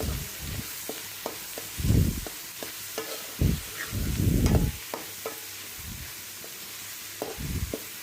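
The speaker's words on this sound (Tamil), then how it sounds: "நம்ம அரைச்சி வச்ச இஞ்சி பூண்டு பேஸ்ட்டை வந்து சேர்த்திக்கலாம் சேர்த்திட்டு நல்லா வந்து வதக்கி விட்டுக்கலாம்" Ginger-garlic paste sautéing with goat head in a pan for goat head gravy, a steady sizzle broken by repeated scraping stir strokes, some louder and closer, with no talking.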